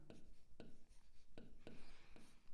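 Pen or chalk strokes write out an equation by hand: quiet, close scratching in short strokes with several sharp taps at irregular intervals.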